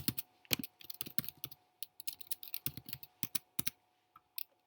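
Someone types an email on a computer keyboard, giving quiet, close, uneven bursts of key clicks with brief pauses between them.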